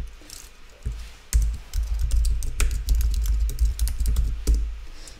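Typing on a computer keyboard at a desk, a close, fairly loud run of rapid key clicks after a brief pause, clustered in quick bursts with a few sharper taps, with no talk.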